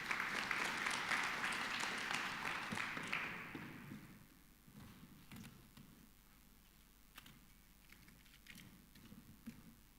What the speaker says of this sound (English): Let's give a round of applause for our author.